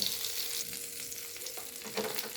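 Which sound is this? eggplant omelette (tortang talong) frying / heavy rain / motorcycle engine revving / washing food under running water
eggplant omelette (tortang talong) frying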